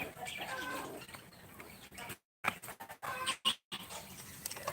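Pigeons in a loft, soft cooing and rustling wing and foot patter close by, with brief quiet gaps and faint background chatter.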